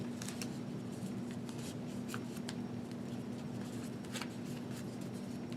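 Quiet, close rustling and crisp creasing of paper as points are folded down for origami, with scattered sharp crinkles over a steady faint hum.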